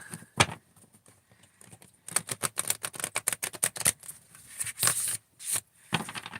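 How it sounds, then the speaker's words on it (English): A tarot card deck shuffled by hand, close up, giving a stiff run of rapid riffling snaps and flicks in bursts with brief pauses, no talking. "That was a rough shuffle, and it seems like I don't recall this deck being that difficult to shuffle."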